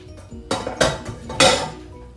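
Baked spaghetti being mixed in a dish: a few close clattering scrapes and clinks of a utensil against cookware in quick bursts, with no talk.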